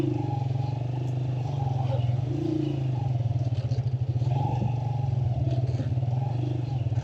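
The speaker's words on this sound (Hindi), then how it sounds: "बाइक को जो है वो स्टार्ट करके हमने गेयर में डाल दिया।" Motorcycle engine idling steadily after being started and put in gear on a steep mountain road, a close continuous low chugging with pulsing beats, while someone talks over it.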